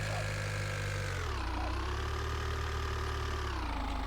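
A snow grader's engine idles in the video game Winter Resort Simulator: a steady, loud low drone that drops slightly in pitch partway through, then holds even.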